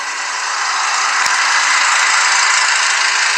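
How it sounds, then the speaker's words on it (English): A loud, steady lawnmower engine drone runs continuously with a rough mechanical buzz and no talking over it. "Sorry if y'all hear the lawnmower though."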